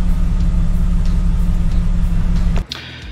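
A 2000 Jeep Cherokee XJ engine, fitted with a heavy-duty viscous fan clutch, rumbles steadily and loudly from inside the moving vehicle. A low drone continues for nearly three seconds, then drops away abruptly with a brief thump.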